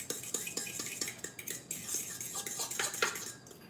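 A utensil stirs gelatin in the bottom of a pan, scraping and clinking against the metal in quick, irregular strokes, faint and close.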